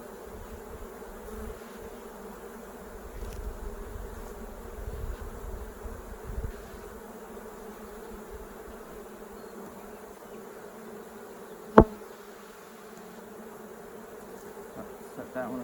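Honey bees buzz in an open beehive, a close, steady insect hum with brood frames exposed, punctuated by a single sharp knock near the end.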